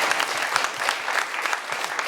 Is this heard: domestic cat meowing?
no